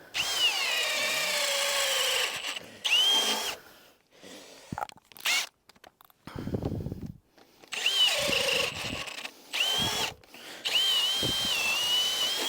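A power drill bores into wood to widen the bottom of an entry hole for a garden room base, running in loud, close bursts of grinding and whirring broken by short pauses, with a few scraping knocks between runs.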